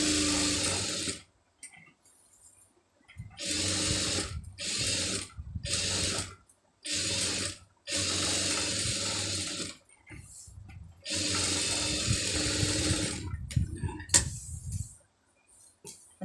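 A tailor's sewing machine runs in bursts while stitching an Aari blouse, each stretch of rapid mechanical whirring and clatter lasting a second or several, broken by short pauses between runs.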